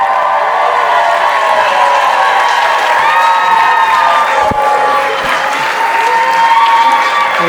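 A large studio audience applauds, cheers and whoops for talk-show guest Andy Cohen, with loud, dense clapping and high shouts from many voices running steadily throughout.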